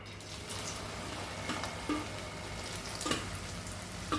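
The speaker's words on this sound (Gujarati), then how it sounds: "ફાસ્ટ ગેસે આને પણ આપણે તળી લેશું" Okra, a second batch, frying in hot oil over a high gas flame: a steady, close sizzle with occasional light clinks and bubbling bursts throughout.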